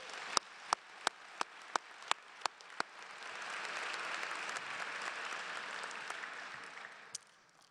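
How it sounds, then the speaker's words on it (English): Audience applause at a medical school commencement ceremony: a few sharp single claps come first, then a broad wash of clapping swells, holds and fades, fairly distant and soft. "I think that deserves another round of applause."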